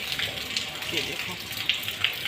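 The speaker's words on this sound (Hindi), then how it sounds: "इतनी बारिश हो रही" Heavy rain pours steadily, a constant hiss with scattered brighter drips and splashes, fairly soft and close, with faint murmuring in the background.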